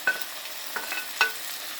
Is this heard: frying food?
yes